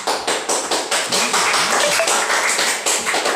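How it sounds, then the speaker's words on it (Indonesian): Classroom applause for a student during a lesson, a group of pupils clapping in a loud, fairly rhythmic burst of close, sharp claps lasting a few seconds. "tepuk tangan untuk Canda"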